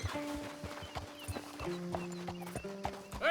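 Horse hooves clip-clopping in the video game Red Dead Redemption 2, with two horses ridden together, a steady rhythmic run of close hoof beats over ambient game sound and tonal music.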